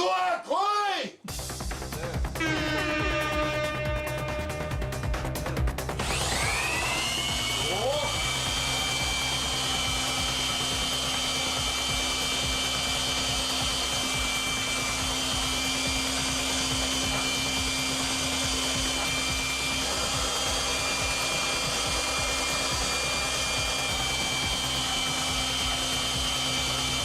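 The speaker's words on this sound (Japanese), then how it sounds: "ブロワー来い。" An electric blower inflates a giant balloon, producing a loud, steady, close whooshing roar that starts after a few seconds of clattering and then runs unbroken to the end.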